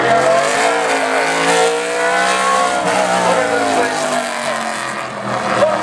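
A NASCAR Canadian Series race car engine revs loudly and close, its pitch sweeping up and down in sustained harmonic waves, with short dips between pulls.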